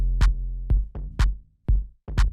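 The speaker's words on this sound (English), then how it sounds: "So you can hear if I make it like right on the grid" A clap sample placed right on the grid lands together with a deep booming kick in an organic micro house beat, the bright snappy clap sounding about every half second over the low thumping kicks and a short decaying tone.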